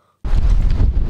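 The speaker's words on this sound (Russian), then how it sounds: "Очень сильный ветер у нас сегодня." Strong wind suddenly roars across the microphone, a loud, gusty buffeting rumble that continues without a break.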